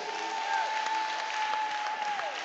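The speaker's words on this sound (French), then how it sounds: "Si tu me suis, acclame très fort Jésus" A church congregation claps in loud, dense, steady applause that fills the room, with a faint sustained tone running underneath.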